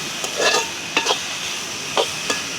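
Onion, dried chili and banana flower fry in a pan as a spoon stirs them in a village kitchen, with four or five distinct scraping strokes over a low steady sizzle.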